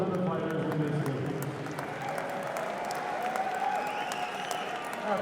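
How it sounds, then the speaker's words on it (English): Crowd at a mixed martial arts event claps and cheers in a steady wash, with shouting voices and crowd noise woven through the applause. "put a round of applause together, please, for both of the fighters in this game"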